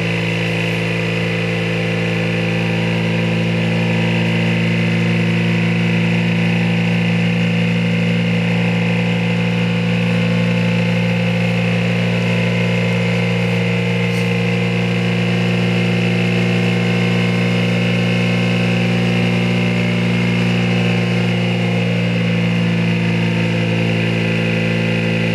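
A small SSG motor runs on both sides of its coil, humming steadily and loudly up close with a constant tonal drone that holds without change for the whole stretch.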